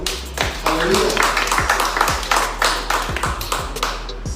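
A small group claps for Jollibee in a rhythmic series of sharp, close handclaps, about a dozen beats, with voices speaking and calling out over them.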